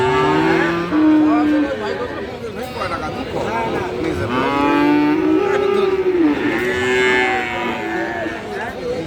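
Cross Friesian bulls and calves at Aftabganj cattle market in Dinajpur moo repeatedly nearby, several long lowing calls rising over a bustling crowd of traders talking.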